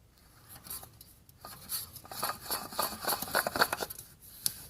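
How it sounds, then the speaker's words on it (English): A new oil filter is spun by hand onto a Mazda 6 during an oil change, giving soft scraping and rubbing clicks as it threads on, intermittent and close up, quiet throughout with no voices. "we're going to get this oil filter on and thread it in"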